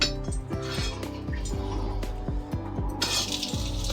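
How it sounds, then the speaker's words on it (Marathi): Onion going into hot oil in a pan for a Maharashtrian kathachi aamti, heard as repeated metallic clinks and scrapes of a spoon against the pan with a soft sizzle rising near the end, close and fairly loud. "आता कांदा घालते त्याच्यामध्ये।"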